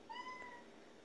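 A single clear meow comes from a pet cat begging for food before dinnertime, short and rising, fairly quiet in a calm indoor room.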